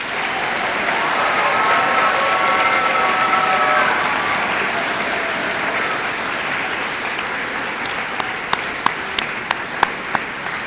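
An audience at an East Hills Middle School recognition ceremony applauds the National Junior Honor Society inductees with a sustained wash of clapping that slowly thins out into a few scattered, distinct claps near the end.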